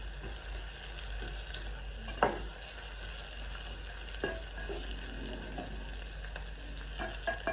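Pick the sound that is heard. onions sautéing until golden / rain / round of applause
onions sautéing until golden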